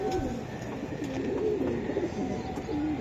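Pigeons coo steadily and close by in a backyard loft of fancy breeds such as silver Giribaz, low rolling calls repeating in soft overlapping phrases with no talk.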